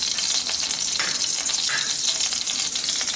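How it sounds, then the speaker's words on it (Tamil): Mustard seeds sizzle in a spoonful of hot oil in a pan, a steady close hiss of frying with no voices. "கடுகு கொஞ்சமாக போட்டுக்குவோம்."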